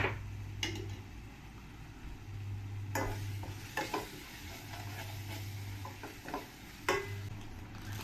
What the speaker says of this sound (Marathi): छान आहे ना भाजून द्यायचा हा मसाला आपल्याला